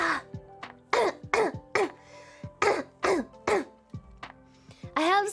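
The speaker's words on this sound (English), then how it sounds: "I'm gonna throw up from coughing too hard" A woman coughs hard and clears her throat in a string of about eight sharp, close bursts with brief gasps between them. The sounds are rough and strained.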